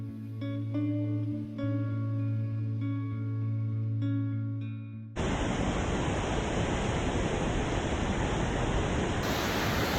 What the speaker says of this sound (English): That's the 7th waterfall I've seen on my route today.